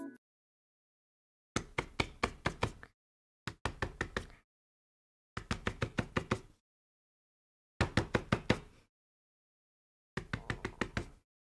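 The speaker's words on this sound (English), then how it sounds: "You want desk slamming?" A hand slams on a desk in six quick bursts of several rapid knocks each, separated by short silences, close and fairly light.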